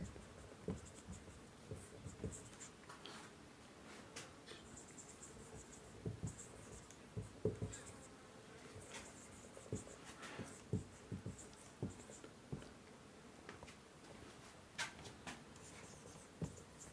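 Pen scratching across paper as a chemistry definition is written out by hand: a steady run of faint, close scratchy strokes and small taps, with no talking.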